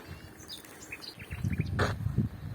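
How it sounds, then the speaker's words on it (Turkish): Scattered, faint bird chirps and tweets in a forest in Yuvalar village, followed by a brief louder rush of noise near the end. "Arkamda duyduğunuz kuş sesleri de şu anda bu yolun da içinde olduğu ormandan geliyor"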